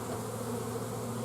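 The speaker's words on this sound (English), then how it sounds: "once I close this up, the bees will start, watch out, the bees will start to go in" Honey bees hum steadily around a nuc hive during installation, a close, continuous drone with a fuzzy insect texture and no voices.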